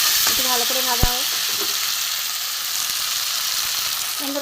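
Taro and potatoes crackle steadily in a hot pan as they fry, with a couple of sharp metallic utensil knocks early on and a brief tonal clink near the end over the continuous sizzle.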